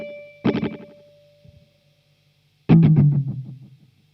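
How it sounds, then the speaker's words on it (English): Roland Space Echo tape echo gives two distorted bursts, each trailing into fading repeats as the tape slows down, the second louder with a sagging low tone, alone with no voices. "I love the sound of the tape slowing down."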